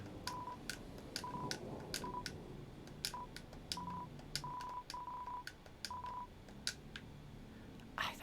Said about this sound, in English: dial-up sound is awful